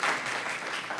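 An audience at a city council meeting applauds in a dense, steady patter of clapping that fills the whole brief moment, with no pauses.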